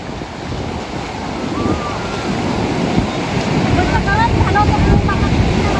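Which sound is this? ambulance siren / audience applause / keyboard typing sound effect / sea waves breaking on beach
sea waves breaking on beach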